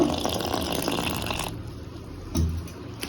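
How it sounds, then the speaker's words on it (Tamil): Water trickles and splashes as a small amount is poured into bajji batter mix for tea-shop snacks. The pour is soft and steady, with a brief louder slosh near the end. "கொஞ்சமாக தண்ணி மிக்ஸ் பண்ணிக்கலாம்."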